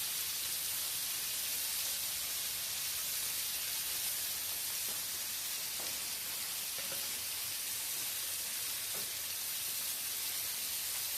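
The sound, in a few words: rain falling outside a village kitchen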